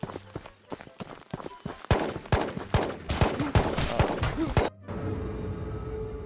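Rapid gunfire in the video game Ghosts of Tabor, including scoped rifle shots: a dense cluster of sharp, loud cracks and bursts with clattering impacts, ending abruptly before a quieter ambient hum.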